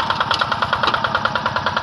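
A Quick G600 hand tractor with a Yanmar TF 65 engine plows a rice field, its single-cylinder diesel chugging in a fast, steady, even beat that is loud and close.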